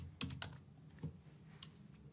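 Card details go in on a computer keyboard: a few crisp, separate key taps with pauses between them, close and fairly quiet in a still room.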